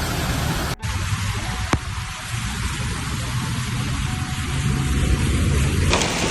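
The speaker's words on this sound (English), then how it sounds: "الخمرة جنوب جدة أمطار غزيرة" Heavy rain pours at Al-Khumra south of Jeddah, a dense, steady hiss of falling water close by that continues throughout, with a couple of sharp cuts and knocks.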